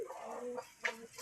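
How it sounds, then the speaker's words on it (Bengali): A rooster in a village yard gives a few short, faint clucks with brief pauses between them, with no other prominent sound. "মোরগ খাতুন ভিডিও করতেছি"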